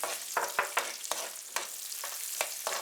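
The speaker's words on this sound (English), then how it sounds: "I see these green chilies have really sizzled, and I add some cashews and some raisins" Green chilies, cashews and raisins sizzle in hot oil in a pan for a vegetarian potato dish, a steady crackling hiss broken by sharp pops and stirring clatters at irregular intervals, close and fairly quiet.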